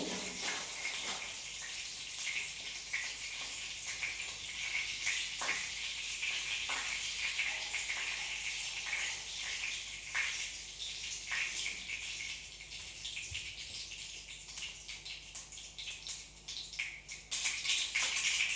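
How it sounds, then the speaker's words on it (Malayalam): Mustard seeds spluttering in hot oil in a pan, a steady dense crackle and hiss with scattered sharper pops throughout, close and continuous with no voices. "കടുക് പൊട്ടി വന്നിട്ടുണ്ട്."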